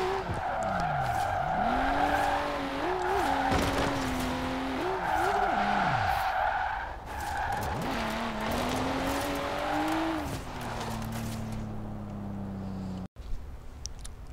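Race cars in Forza Horizon 4 roar and rev continuously with engine pitch climbing and dropping through gear shifts, while tires squeal and skid loudly over the steady engine noise.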